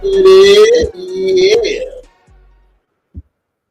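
A house cat meowing loudly and close, two long drawn-out yowls followed by a softer trailing call and a small thump, during an indoor live stream.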